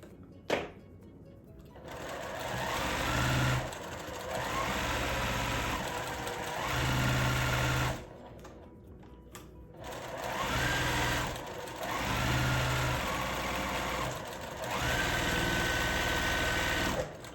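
A sewing machine pieces a farmhouse quilt block in several long, even runs of steady whirring with short pauses between them, close and mechanical, with no voices.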